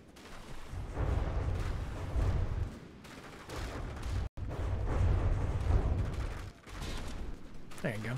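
Vehicles in the From the Depths video game fire their weapons, with repeated heavy booming volleys that continue in bursts for several seconds under a speaking voice.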